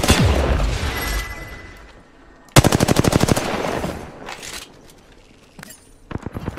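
A rapid burst of automatic gunfire from a weapon in the shooter game Apex Legends: about a dozen sharp, evenly spaced loud shots, close up, after a stretch of game noise, with scattered single reports following.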